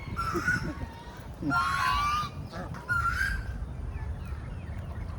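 Geese honk in a few loud, nasal bursts at close range in Bangkok, separated by short pauses, over low outdoor background noise.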